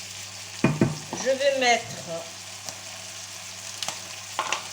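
Tartiflette ingredients with lardons being stirred in a frying pan, a soft sizzle running underneath scrapes and clinks from the spoon, while someone speaks briefly over it.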